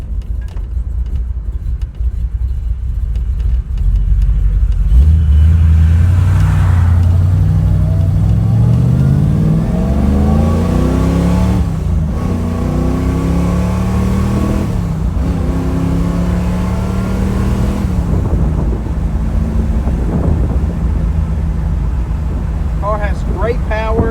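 A 1967 Chevrolet Camaro RS SS V8 engine revs up and accelerates hard through several gear shifts, the deep roar climbing in pitch repeatedly, loud and close.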